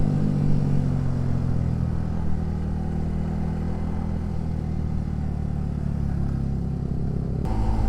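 Motorcycle engine straining hard on a road ride, a steady loud mid-pitched drone that holds under load for several seconds, with faint clatter and wind noise and a brief change near the end.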